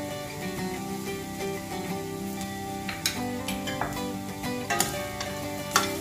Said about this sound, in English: Now mix all together very well so that rice gets the taste of all the masala mixes